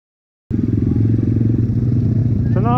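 A moped engine at a street drag race bursts in loud and close after half a second of silence and runs with a steady rattling throb; a brief voice-like tone rises near the end.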